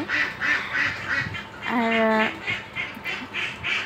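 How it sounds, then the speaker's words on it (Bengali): A village flock of about 70 to 80 domestic ducks quacking as they feed on rice paddy, a steady overlapping chorus nearby with one louder quack standing out, and a person speaking briefly. "এখানে প্রায় 70 থেকে 80টার মতো হাঁস আছে, দেখতে পাচ্ছেন"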